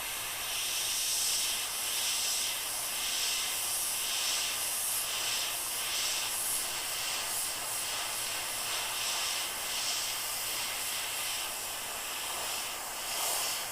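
Airbrush spraying paint, a steady close hiss of air running continuously with slight pulses in intensity.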